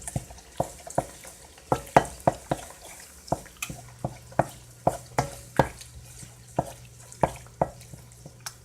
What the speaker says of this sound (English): I'm going to be adding my tomato paste and have it cook for about 6 minutes with the onions.